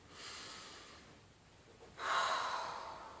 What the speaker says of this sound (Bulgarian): Вдишайте дълбоко и издишайте.